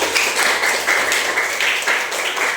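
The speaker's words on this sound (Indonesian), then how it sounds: "Kasih tepuk tangan dulu." A sixth-grade primary school class claps for a classmate, a brisk patter of many small hands in a classroom, moderately loud and continuous with faint voices mixed in.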